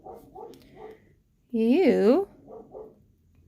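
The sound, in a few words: dog barking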